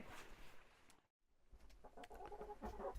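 Hens in a backyard coop run cluck and chatter softly at close range. The soft calls come in bursts, broken by a brief silent gap, and pick up again with more animated clucking.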